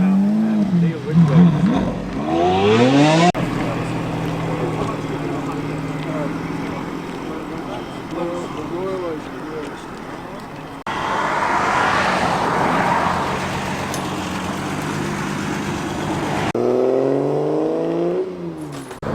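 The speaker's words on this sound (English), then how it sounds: "That great little Austin 1300 readying itself for the journey ahead around the lanes of Cheshire." A classic Austin 1300 car at a Cheshire road run pulls away, its engine revving and rising in pitch, with continuous engine and road noise throughout and other engine surges near the start and end.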